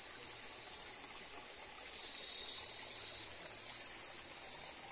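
A stream flowing beside a riverbank in rural Nepal, heard as a steady, continuous rush of water that stays even and unbroken throughout, with no voices.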